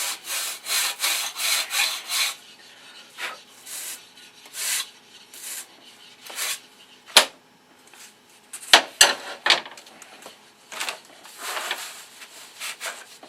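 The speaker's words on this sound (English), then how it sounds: "got to make sure you sand from the datum side, not from the broken side" A wooden block being sanded by hand from its flat datum side, heard as bursts of rhythmic rasping strokes, close and fairly loud, with pauses and a few sharp knocks between runs of strokes.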